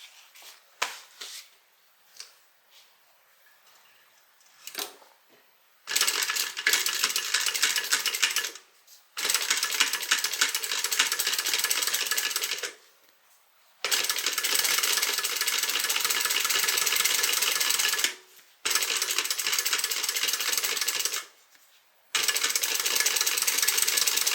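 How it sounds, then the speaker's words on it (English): A sewing machine topstitches a seam on a small tote bag in several long steady whirring runs, close and fairly loud, separated by short pauses with faint handling clicks. "we're going to top stitch on the bottom piece"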